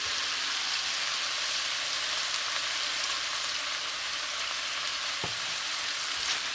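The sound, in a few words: sautéing chickpea curry masala in pan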